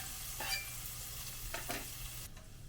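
Onions fry over medium heat in a pan with butter and a little oil, a quiet steady sizzle broken by a few brief stirring scrapes, close and faint, with no talking.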